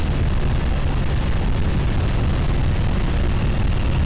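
An airplane takes off from runway 28 left at San Francisco, a broad, steady roar of engines filling the clip, loud and continuous with no voices.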